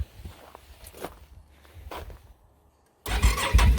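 Outlander 850 XMR ATV from 2021 fitted with an HMF exhaust fires up after a few footsteps and quiet shuffling, the engine catching abruptly and running loud and rough nearby.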